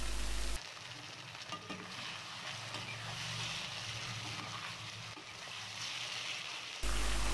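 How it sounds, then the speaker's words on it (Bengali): Marinated snakehead fish hits a pan of spiced oil, a steady close sizzle and frying hiss with some stirring that runs the whole stretch, louder bursts at start and end. "এখন দিয়ে দিচ্ছি আগে থেকেই মেখে রাখা শৌল মাছগুলো"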